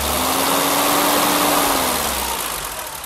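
A BMW 325i E30 engine runs with a faint strange noise in the background, a loud close engine hum with a brief tonal whine that fades as the sound gradually settles, no voices.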